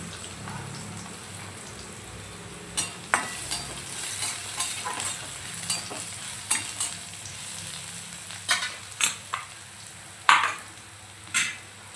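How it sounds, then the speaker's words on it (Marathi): Poppy seeds and sesame seeds roast in a pan alongside whole spices and cashews, giving a soft continuous sizzle with scattered crackles and sharp stirring clicks and scrapes that grow louder toward the end. "खसखस आणि तिळे ॲड केलेले आहेत बघा. यांना आपण छान असं परतून घेऊया."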